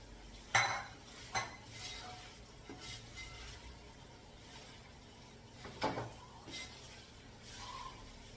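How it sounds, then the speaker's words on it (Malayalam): Fried prawns going into a pan with asafoetida powder while cooking, heard as a few metallic clanks and scrapes of a utensil against the pan with faint sizzling in between, fairly quiet. "1 ടീസ്പൂൺ കായ പൗഡർ ആഡ് ചെയ്ത് ഫ്രൈ ചെയ്തിരിക്കുന്ന പ്രോൺസ് ഇട്ട് കൊടുക്കാം."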